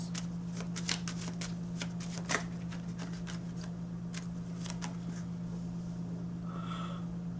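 Tarot cards being shuffled in a steady run of soft riffling flicks over a constant low hum, with a couple of louder snaps partway through and no talking.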